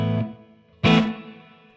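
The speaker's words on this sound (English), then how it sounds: "this patch already has reverb saved on it" Two clean electric guitar strums through a BOSS Katana Artist amp, the second ringing out with a lush reverb tail that slowly fades into silence.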